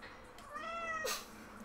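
A cat gives a single drawn-out meow rising then falling, clear and close, with no one talking over it.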